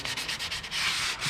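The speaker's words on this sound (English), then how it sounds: "you've sanded with the 80 grit is pretty coarse" Coarse 80-grit sandpaper rubbing over wooden step-stool parts in steady back-and-forth strokes, a close, continuous scratchy rasp with brief rhythmic dips between passes and no talking.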